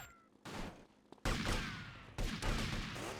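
Gunfire in GTA Vice City cracks out in a few sharp, loud bursts, each followed by a dense ringing decay, with quieter clatter between the shots.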